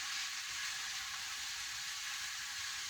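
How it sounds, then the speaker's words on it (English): Minced beef sizzles steadily as it is stirred in a pan with onion, garlic and pancetta for spaghetti bolognese, a continuous close hiss with faint scraping underneath and no voices. "stir that around in the pan"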